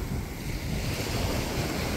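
Sea surf rolls in near a bridge along the Quezon Province coast, a dense, steady roar of waves mixed with heavy wind buffeting the microphone, loud and continuous with no voices.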